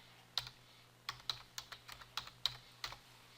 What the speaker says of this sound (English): So if we go over here and we type in chiropractors,